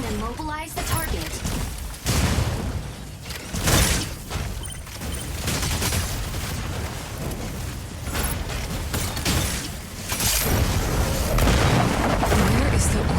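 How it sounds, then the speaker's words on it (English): Gauss cannons fire in a sci-fi video game, a dense barrage of heavy booms and crackling impacts layered with mechanical noise and game music, continuous and loud throughout. "You can also use Gauss cannons to attack."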